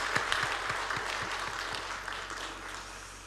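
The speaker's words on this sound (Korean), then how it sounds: "우리 위로와 격려, 축하의 박수를 함께 우리 드리도록 하겠습니다." A church congregation claps together in a steady, even round of applause that stays loud and full before fading slightly toward the end, with no talking over it.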